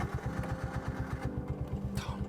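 A tuk-tuk engine idles by a highway in Argentina. It makes a close, loud, rapid and even chugging that runs throughout, with a brief hiss near the end.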